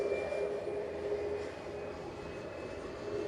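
Boeing 737 MAX 8 jet at Manchester Airport, a steady distant engine roar with a faint whine, fairly quiet and unchanging, with no talk.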